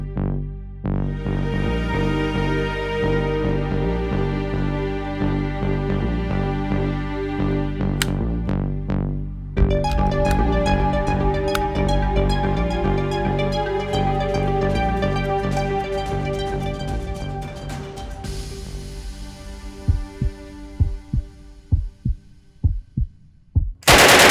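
A British WW2 weapon fires rapidly on automatic, with dense bursts of sharp cracks over a loud, humming tonal background and a few separate heavy reports near the end. No voices are heard.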